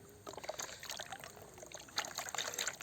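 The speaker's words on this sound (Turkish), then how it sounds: "Suyu biraz boşaltalım." Water is poured out of a gold pan beside a creek, a soft splashing trickle in uneven spurts against faint running-water background.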